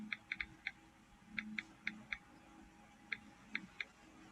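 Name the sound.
computer keyboard typing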